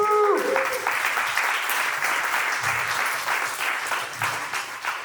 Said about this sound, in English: Let's get a round of applause for Crypto Monday San Juan, 5 years strong.